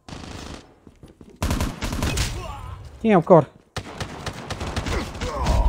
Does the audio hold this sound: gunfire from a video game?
yes